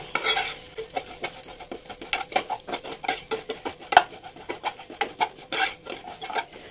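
Vermicelli roasting in hot ghee for kheer, a metal spoon scraping and clinking against the pan in quick rhythmic strokes over a soft sizzle, close up with no voices.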